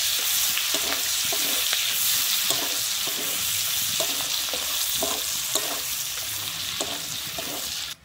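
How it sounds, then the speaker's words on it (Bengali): Chopped onions frying in oil until browned, a steady soft sizzle with regular scraping stirs every second or so, close and fairly quiet, stopping abruptly at the end. "আমি পেঁয়াজটাকে দিয়ে কিন্তু লাল করে ভেজে নেব।"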